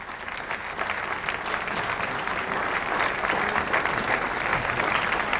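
An audience applauds at a 1990 Inner Circle press dinner show, dense continuous clapping filling the room at an even, sustained level with no speech.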